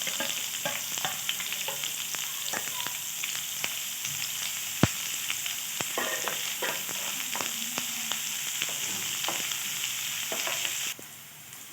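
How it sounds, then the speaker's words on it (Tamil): Small shallots fry in hot oil as a tempering for a goat brain and egg fry. Sizzling crackles continuously, with sharp spatula clicks and scrapes scattered throughout, fairly close, until the sound cuts down near the end. "சின்ன வெங்காயத்தை போட்டு தாளிச்சிடலாம்."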